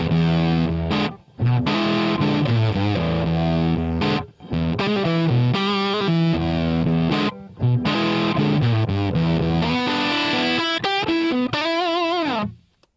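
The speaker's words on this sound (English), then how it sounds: "We'll just turn off the reverb, so we're just getting the Plexi amp" Distorted electric guitar through a crunchy Plexi amp model with reverb off, chords and riffs played loudly with brief pauses, ending on a bending note.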